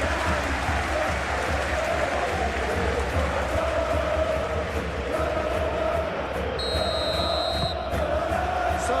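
A capacity stadium crowd in PES 2021 at a simulated Copa del Rey final between Atlético Madrid and Real Sociedad keeps up a constant loud roar of cheering and applause.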